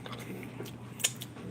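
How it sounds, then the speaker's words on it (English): A person chewing food quietly close to the microphone, soft crunching bites with one sharper crunch, faint against a steady room hum. "Let me finish chewing."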